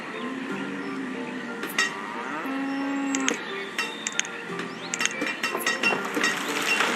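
Cattle in the village-building game Banished low out in several drawn-out moos, layered over a steady in-game ambience with scattered clinks and clicks.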